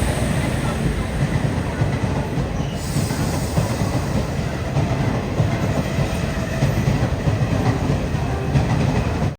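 The Garib Rath Express rolls into Thiruvalla station with a loud, close, continuous roar of wheels on rails and steady rattling, with faint high squealing above it.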